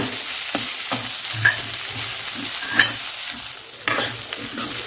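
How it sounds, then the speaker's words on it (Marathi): Soaked rice frying in ghee in a kadhai for sweet coconut rice, with rhythmic scraping strokes of a spatula against the pan over a light, steady sizzle, close up. "मी मस्त तांदूळ फ्राय करून घेतले आहेत तुपामध्ये"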